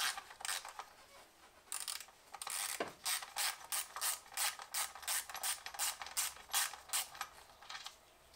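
A hand ratchet loosens screws on the upper timing belt cover of a Mazda MX5 NB/NA, a long run of quick rhythmic clicking strokes, close and clear, with a short pause early on.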